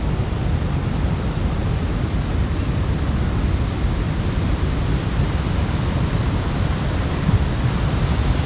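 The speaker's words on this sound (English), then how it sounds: "Look at those waves." Ocean surf breaking along the Northumberland coast in winter, a steady broadband roar of waves with heavy wind buffeting the microphone, loud and continuous throughout.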